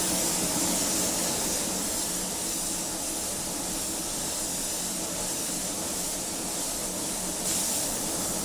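A 0.8 spray gun lays down deep black auto air paint in light coats, giving a steady, close, continuous hiss of spray that runs unbroken throughout with no talking.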